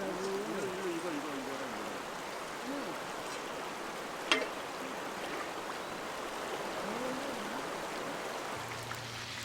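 A wide, long stretch of the Soyang River in Inje, Gangwon Province, flows past with a steady, soft rushing murmur, distant and even throughout, with a single brief tap standing out midway.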